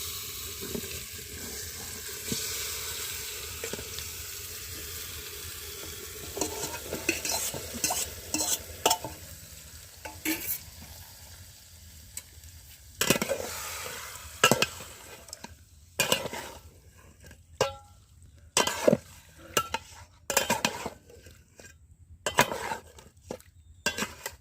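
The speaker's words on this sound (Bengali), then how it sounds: "তো মাংস আমি ভালো করে কষিয়ে নিচ্ছি।" Marinated chicken sizzles steadily in a pan while a spoon stirs it, with scraping clatters growing sharper and more frequent toward the end; no one speaks.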